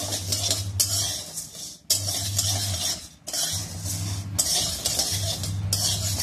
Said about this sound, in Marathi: गहू पण आपल्याला याच्यामध्ये भाजून घ्यायचे आहेत